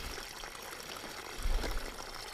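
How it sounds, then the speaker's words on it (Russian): Water forcing its way through a valve into a fishing boat on the Moksha river: a faint, steady rushing trickle that swells briefly midway. "Вода через клапан херачит"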